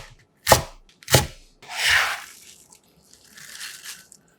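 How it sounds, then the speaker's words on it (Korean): A knife chopping a handful of washed chives into 1 cm pieces on a board: two crisp, separate chops close up, then softer scraping and rustling as the cut chives are gathered, in an otherwise quiet kitchen. "깨끗이 씻은 부추 한 줌 100g을 1cm 길이로 잘라 담아줍니다"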